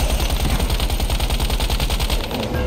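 In a video game, a Gatling gun fires a rapid, continuous burst of evenly spaced shots, loud and close, with no talk over it.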